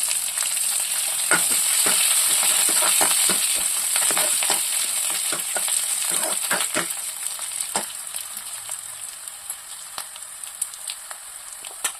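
Curry leaves hit hot oil in a pan and crackle loudly, with a bright steady sizzle and sharp pops and spatters that gradually thin out and grow quieter.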